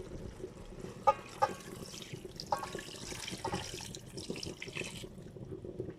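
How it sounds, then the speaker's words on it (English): Liquid seasoning poured over fish for Jamaican brown stew, giving a soft, close trickling and splashing, with a few sharp clinks near the start. "I'm just going to pour that on top now."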